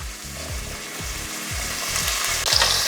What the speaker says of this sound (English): So what we're aiming here is to get the meat browned all over.